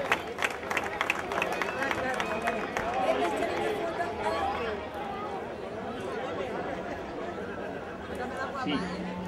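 A crowd claps for a veteran runner at an awards ceremony for a popular night race, steady applause mixed with chatter and background voices throughout.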